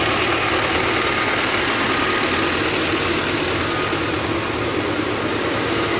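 A tractor engine runs steadily at idle, close and loud, with a constant low knocking throb throughout and no talk.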